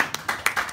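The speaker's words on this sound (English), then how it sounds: "Give yourself a round of applause." A few sharp hand claps from a small open-mic audience, a brief burst of close, bright clapping with no talk.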